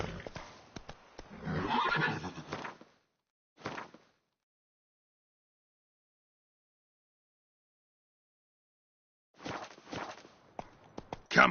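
A horse in The Witcher 3 video game neighs loudly and close, followed by hoofbeats in short bursts separated by a long silent gap, then more hooves and a final sharp sound.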